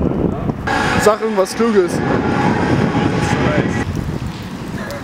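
Strong wind buffets the microphone outdoors, a loud, rumbling, uneven roar that gusts throughout while someone speaks over it.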